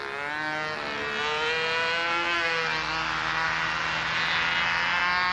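A model airplane engine, freshly broken in and tuned, screams steadily in flight, its harmonic whine rising and falling slightly as the plane moves, loud and continuous with no talk over it.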